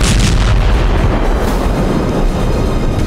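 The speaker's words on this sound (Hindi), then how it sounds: "अचानक धमाका हुआ और माइंस के ऊपर आते ही यूक्रेन का टैंक नष्ट हो गया।" A Ukrainian tank hitting a land mine in the Robotyne area: a heavy, loud blast rolls straight into a dense, rumbling roar that stays strong for the whole few seconds.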